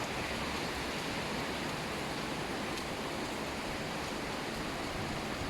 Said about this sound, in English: Pouring, pouring, pouring rain.